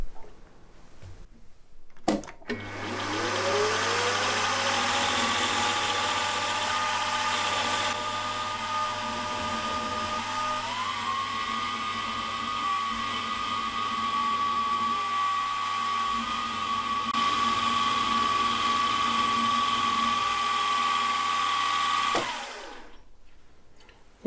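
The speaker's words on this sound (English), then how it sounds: "So this is just basic drilling and tapping" Drilling and tapping holes in the crank webs for a small Hoglet V-twin model internal combustion engine: a motor spins up to a steady, even whine, holds for about twenty seconds and then cuts off, with no talking.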